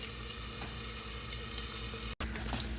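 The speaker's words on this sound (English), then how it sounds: "I got some onions going" Onions frying in a pan for a home breakfast, a steady broadband sizzle running continuously with a brief cut near the end, close and fairly loud with no talking.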